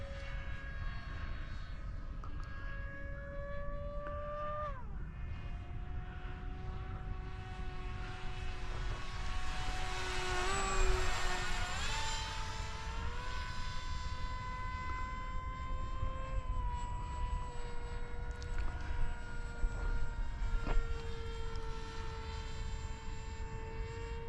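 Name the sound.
FF-35V2 6-inch prop RC plane flying at full throttle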